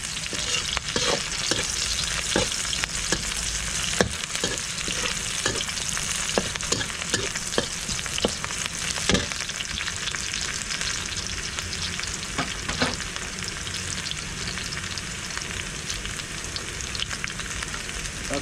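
Onion frying in a pan: a steady, close sizzle runs for the whole stretch, with frequent sharp scrapes and clicks from stirring, and nobody speaks.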